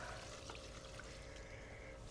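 Dirty water from rinsing garlic poured over garden plants, a steady soft trickling pour that runs evenly throughout, close by with no talking.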